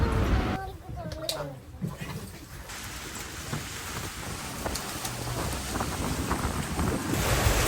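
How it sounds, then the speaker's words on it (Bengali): Strong wind roars across open sea water in the Maldives, buffeting the microphone in steady gusts, with a boat's wash beneath and a voice briefly heard early on. "এগেইন আমাদেরকে বৃষ্টি ধরে, প্রচণ্ড বাতাস।"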